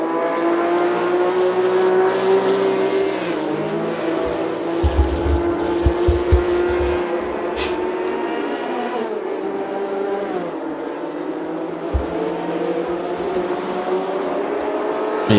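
Race cars from the 1966 Targa Florio on the road circuit in a racing video game, engines droning and revving steadily, with gear changes and shifting pitch as cars run close, a continuous loud motor roar throughout.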